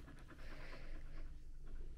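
Ridley the dog panting heavily nearby, a quick rhythmic run of soft breaths, faint and steady across a couple of seconds.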